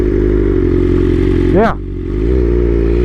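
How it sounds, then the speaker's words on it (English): BMW M 1000 RR sport motorcycle accelerating past, a steady engine drone rising into a brief sharp high-pitched sweep as it passes close by, then fading back to a lower hum. "That's a very quick accelerating bike right there."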